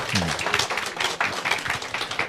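An audience at a business presentation breaks into brisk applause, a dense run of close hand claps with a few voices mixed in underneath.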